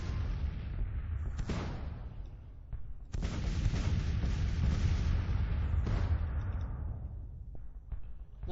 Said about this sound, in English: We're going to just try to shell this cavalry unit.